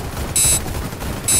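Gunfire crackles in the shooter Warface: two short, loud bursts of rapid automatic shots, close and harsh, over a steady background of game ambience.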